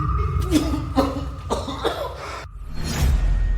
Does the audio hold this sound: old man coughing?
yes